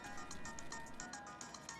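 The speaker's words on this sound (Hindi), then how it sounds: "तेरा फोन बज रहा है बे।" A quiet phone ringtone, a repeating electronic melody with a steady pulsing pattern, heard faintly without any talking.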